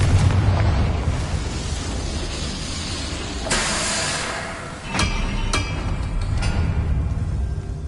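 A Confringo blasting spell in a video game sets off a loud explosive burst with a rushing roar, followed by a second crackling blast and lingering rumbling hiss.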